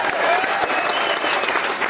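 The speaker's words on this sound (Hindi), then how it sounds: "ताली उनके लिए जरूर बजाएं।" Audience at an Asclepius Wellness event breaks into sustained, dense applause, loud and continuous for the whole stretch with no voices over it.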